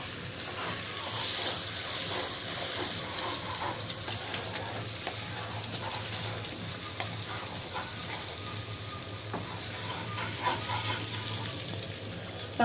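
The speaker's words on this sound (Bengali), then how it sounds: "ডিমটা একটু ভেজে নেব" An egg sizzles and fries in a pan for egg noodles. The steady hiss and crackle runs close and even throughout, with no one talking.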